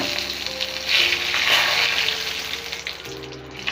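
Washed bay leaves dropped into hot oil for a potato curry, crackling and sizzling loudly and continuously, with sharper bursts of spitting and occasional stirring clinks.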